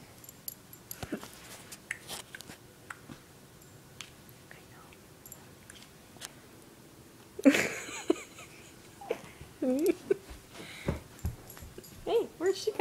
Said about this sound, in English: Oh, that was our dog, Dougie.